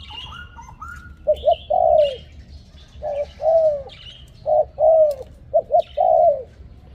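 A wild mountain bird sings close by in repeated short phrases of cooing, whistled notes, with brief pauses between, over faint background hiss.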